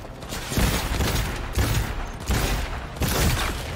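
Rapid bursts of automatic gunfire in the video game Cyberpunk 2077, played at 4K on ultra settings, come in three or four loud sustained volleys separated by brief gaps, with no talk over them.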